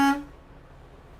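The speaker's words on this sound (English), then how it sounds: "Check my city horn and my air horn." A truck's air horn gives one loud, short blast right at the start, stopping almost at once and leaving quiet cab noise behind.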